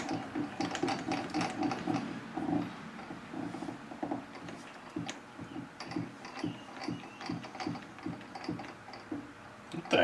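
A metal lathe running in a home workshop makes an odd, irregular ticking and clicking, a steady series of light mechanical taps repeating close by over a low hum, with no talk.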